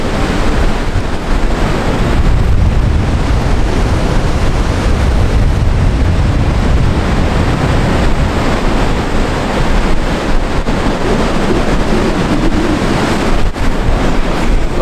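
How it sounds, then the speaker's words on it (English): Ocean surf pounds at the South Gare breakwater on a bleak, freezing day, with steady loud roaring waves and heavy wind buffeting the microphone throughout. "Look at them waves."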